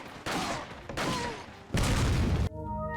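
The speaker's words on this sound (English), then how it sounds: "If I throw the nade from here." Grenade blast in Resident Evil 4, several loud booming bursts with gunfire-like crackle, followed by a sudden cut to a tonal game sound at the end.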